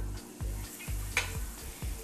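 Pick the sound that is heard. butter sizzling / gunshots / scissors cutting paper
butter sizzling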